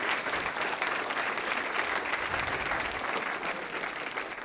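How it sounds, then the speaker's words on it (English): Sustained, dense applause from an audience honouring students who took part in a competition finals event, steady and loud throughout with a slight easing near the end. "let's give all of the students that have participated one more big round of applause"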